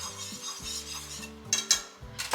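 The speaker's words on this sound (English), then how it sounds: "this pot over here has started to boil with the broth and the soup" A pot of broth comes to a boil for broccoli cheddar soup, giving a steady bubbling hiss with a couple of sharp utensil clinks near the end and no talking.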